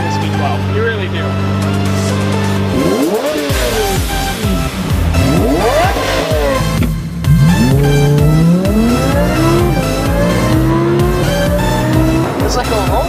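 A Lamborghini LP670 Super Veloce V12 revs hard and accelerates up through the gears in loud, rising sweeps close by, with short drops between pulls and people talking over it.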